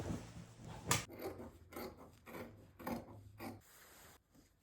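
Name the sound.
scissors cutting fabric of an XL jacket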